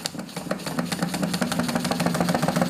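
Wilesco D16 toy steam engine running at low speed, a fast steady chuffing and mechanical ticking with a low hum, close and continuous without any talk.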